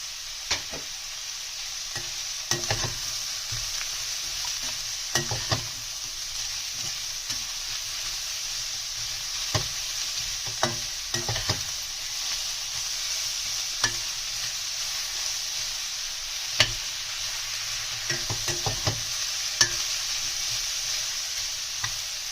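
Vegetables and mushrooms stir-frying in a pan for street-style veg chowmein, a continuous close sizzle with repeated scraping and clanking spatula strokes at irregular intervals, no voices.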